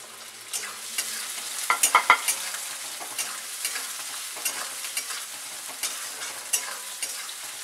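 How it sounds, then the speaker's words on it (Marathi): Two large, finely chopped onions fry in a pan until reddish, giving a steady hiss broken by frequent spoon scrapes and a short cluster of sharper clanks early on. No one speaks. "कांदा चांगला लालसर भाजून घ्यायचा।"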